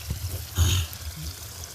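Rainwater pours through a small hole in a village after heavy rain, a brief, faint trickling splash that swells for a moment and then settles back to a soft dribble.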